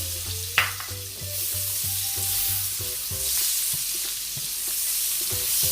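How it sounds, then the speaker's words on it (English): White onion sizzles steadily in melted butter in a saucepan, a continuous close hiss with a brief clink near the start, while faint tonal music plays underneath. "I'm just going to allow this to melt before I start sauteing my seasoning"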